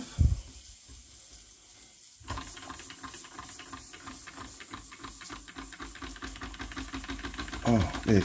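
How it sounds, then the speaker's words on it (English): A Retrol SE 02 model steam engine from EngineDiyShop starts running on live steam, a fast rapid chuffing and hissing that begins abruptly after a quiet moment and keeps going steadily, close by. "there she goes, running on steam for the very first time"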